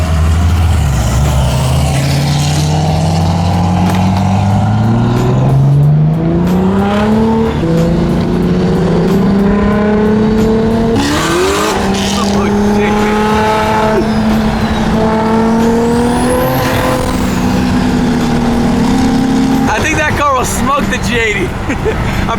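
Single-turbo BMW M3s accelerating hard, engines revving up through rising gears with loud, close exhaust drone and brief tire squeal, voices talking over the noise.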